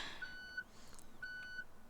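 A vehicle's reversing warning in the BeamNG driving game, two faint pairs of short, steady electronic beeps about a second apart over a low background hum.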